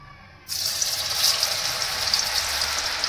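Chickpea pakoras dropped into hot oil burst into a loud, steady sizzle that starts abruptly and continues with dense bubbling crackle, close up.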